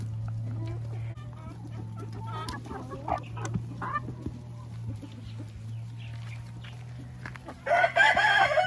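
An Araucana cross rooster and hens at a backyard feeding spot give soft, scattered clucks over a steady low hum, with a louder burst of fowl calling near the end.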